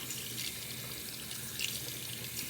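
Tap water runs steadily into a sink while a dog's paws are washed, a soft continuous splashing heard alone and fairly quiet, with no talking.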